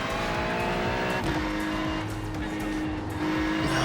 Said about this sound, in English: He's gone off and it's a big shunt.